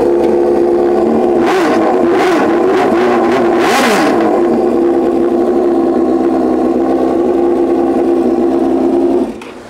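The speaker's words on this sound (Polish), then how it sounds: "Zaraz posłuchacie, jak chodzi wolny wydech, przelot." A Suzuki GSXR 750 sport motorcycle with an open straight-through exhaust roars close and loud, with several sharp throttle blips early on over a raspy idle before it cuts off near the end.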